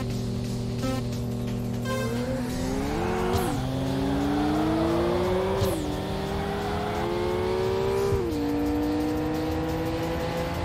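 A Toyota Supra in the PSP racing game Street Supremacy, its engine revving hard and climbing through gears with rising pitch sweeps and shift drops, loud and continuous over a steady background.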